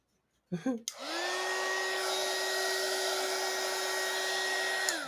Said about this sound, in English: hit this with the dryer